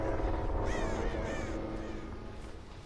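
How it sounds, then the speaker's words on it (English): A crow in a horror video game caws several times in quick succession, moderately loud over a steady low background rumble, with no talking. "I just saw a crow."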